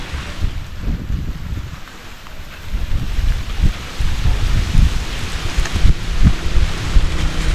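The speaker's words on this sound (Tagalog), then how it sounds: "Ulan, huwag ka lumakas ulan." Heavy rain pours steadily and loudly outdoors, a dense close hiss and patter with low rumbling underneath and no talk.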